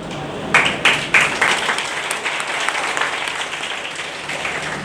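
Audience at a NEET-2022 coaching ceremony bursts into applause, a few sharp claps up front swelling into steady, moderately close clapping that carries on without pause.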